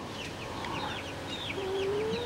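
Young chickens moved out to a coop run cluck and chirp softly at a steady low level, with a few higher calls and one drawn-out tone near the end.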